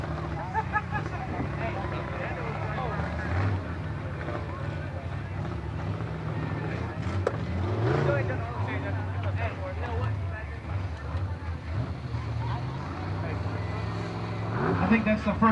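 A rebuilt truck engine runs in a mud bog race, a steady low roar sustained throughout with a rise near the end, heard from a distance with wind noise and a voice talking over it.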